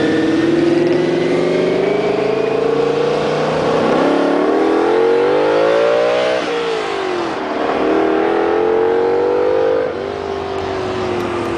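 Cizeta supercar with a transverse engine revving hard, loud and close, its pitch climbing and falling through repeated throttle sweeps with no voices over it.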